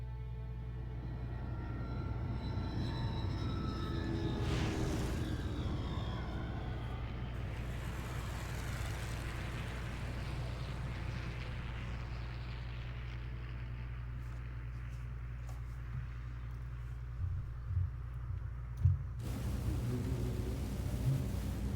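A steady low drone of an airplane in flight in a Cowboy Bebop video game, a quiet continuous rumble with a faint whoosh in the middle and a few small clicks near the end.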